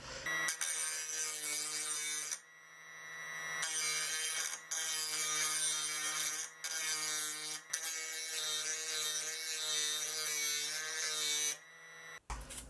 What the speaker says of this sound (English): I'll use a diamond grinder to shape it